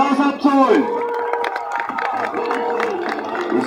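Crowd at an outdoor monster truck show in Leimbach near Bad Salzungen claps and cheers steadily throughout, a dense wash of hands and voices with an announcer talking loudly over it.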